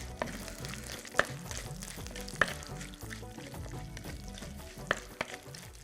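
Green chillies and curry leaves sizzle in hot tempering oil for a vegetable dish, a steady close frying hiss with a few sharp crackles and pops, stirring noises, no talk over it.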